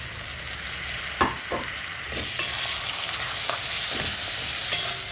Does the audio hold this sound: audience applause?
no